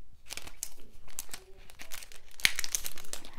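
A small matte plastic mini folder is handled and opened close up, giving soft crinkling and rustling with a sharper snap partway through.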